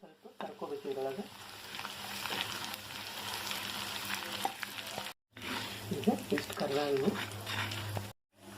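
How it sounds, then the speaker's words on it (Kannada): Flattened rice (avalakki) frying in hot ghee in a home kitchen, a steady close sizzle with stirring scrapes, under a person talking throughout and briefly cut by two short gaps. "ತುಪ್ಪ ಕಾದದ ಎರಡು ಸ್ಪೂನ್ ನಾನು ಮೀಡಿಯಮ್ ಅವಲಕ್ಕಿ ಹಾಕೊಳ್ತೀನಿ"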